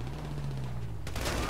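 Heavy-weapon gunfire erupts in a GTA V shootout. A low droning rumble runs first, then a sudden loud burst of rapid shots breaks in near the end.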